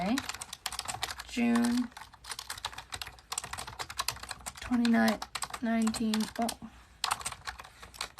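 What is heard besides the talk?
typing on a Logitech K520 keyboard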